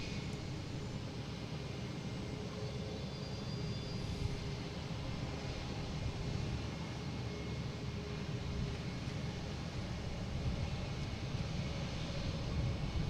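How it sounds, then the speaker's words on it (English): A Cape Air Cessna 402 lands on runway 4 left at Boston Logan. A faint, distant engine drone hums steadily under quiet airport ambience, with no voices. "And we got a Cape Air coming in from Islip, should be coming in on, there it is, 4 left"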